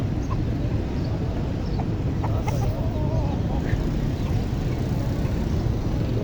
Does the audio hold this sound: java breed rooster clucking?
yes